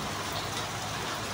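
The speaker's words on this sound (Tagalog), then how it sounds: "Bumisita na naman ang ulan dito sa amin." Steady, dense rain falls outside in Lopez, Quezon after a night of continuous downpour, a constant hiss with no breaks or voices.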